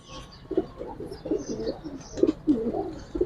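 Giribaz high-flyer pigeons with red-toned plumage coo nearby in soft, repeated throaty phrases, several rounds over a few seconds, with faint chirps in the background.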